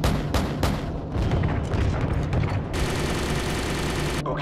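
AC-130 gunship firing in the Modern Warfare 3 video game, a rapid series of loud booming shots and bursts followed by a sustained roar of fire, dense and close.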